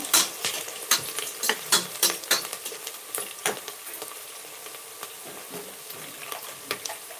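Chopped onions fry in a pan for vangibath, a spiced brinjal rice, with a steady close sizzle punctuated by irregular sharp clicks and scrapes of a spatula stirring; no one speaks.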